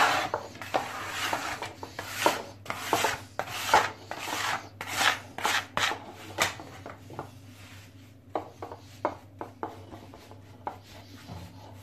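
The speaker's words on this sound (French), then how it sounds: "Et là on va nettoyer notre plan de travail de la farine." Flour being wiped and scraped off a kitchen work surface while making a galette des rois, a series of rhythmic rubbing and rasping strokes, close and fairly loud, with no talk.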